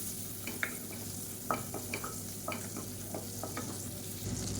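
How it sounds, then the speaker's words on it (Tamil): Spices and leaves sauté quietly in butter in a pan under a steady low hum, with occasional soft scraping stirs and light pops. "இதை நல்லா வதக்கி விட்டுக்கலாம்."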